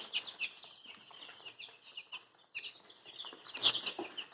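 Young chicks out on a walk at a village home give a series of soft, high clucks and chirps, intermittent and close, with no talk.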